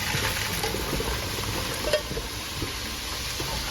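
Ground meat cooking in a pan gives a steady, soft sizzle with occasional light stirring taps and scrapes, close and continuous, with no talk.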